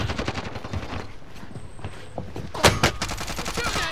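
Rapid automatic gunfire from a Warzone Rebirth Resurgence firefight comes in loud, close bursts that overlap one another, with a sharp volley near the end.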